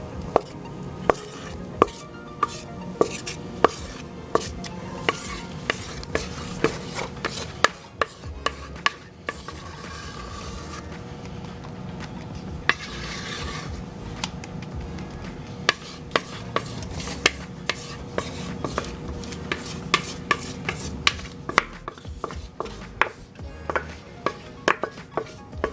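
A spoon scrapes and scoops a thick chocolate chip mixture in a bowl, giving repeated close knocks, clacks and smearing rubs in an irregular rhythm over steady kitchen background noise.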